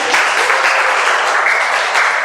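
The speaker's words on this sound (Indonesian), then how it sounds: "Tepuk tangan dong buat Iqmal ya." Students in a classroom clap for a classmate during a teaching-practice lesson, a dense, loud, steady round of applause heard on its own.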